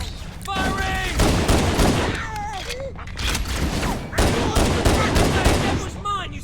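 Gunfire in Halo: Combat Evolved Anniversary, with dense, loud, sustained bursts of rapid shots and heavy impacts filling the whole span while voices talk over the battle.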